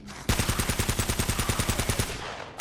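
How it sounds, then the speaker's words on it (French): Gunfire in the video game Uncharted as a magazine is emptied, a loud burst of about fifteen evenly spaced automatic shots lasting roughly two seconds before stopping, with no talk. "Je vide mon chargeur exprès pour pouvoir être tranquille."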